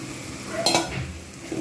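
Fried fish being stirred in a pan with homemade coriander-cumin powder, soft sizzling under a spatula scrape and a short clatter near the middle, close up.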